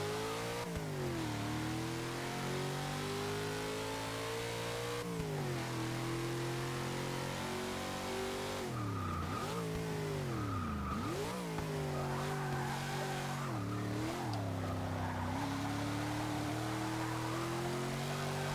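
A 1997 Land Rover Defender 90 with a bigger turbocharged engine at the front revs hard in a Forza 6 racing game, its engine note climbing and dropping repeatedly through gear changes, loud and continuous with no talk.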